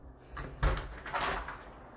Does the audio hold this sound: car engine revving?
no